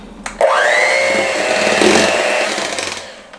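An electric mixer whirs up to speed through cream cheese, ube jam, sugar and ube extract, a loud close motor whine that starts abruptly, holds steady for a few seconds, then eases off toward the end.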